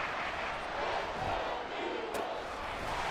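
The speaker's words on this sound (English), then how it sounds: "This crowd turning up the decibel level." A football stadium crowd roars and cheers during a game, a loud, steady wash of many voices that swells slightly and carries on throughout.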